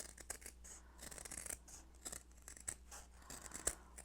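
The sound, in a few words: scissors trimming embroidery stabilizer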